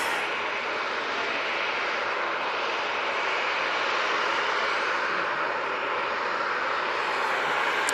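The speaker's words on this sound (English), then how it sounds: "This one's off to Ibiza, and it's the Cessna Citation XLS" Cessna Citation XLS business jet at Manchester Airport, a steady broadband engine roar holding level and fairly loud throughout with no break, no voices over it.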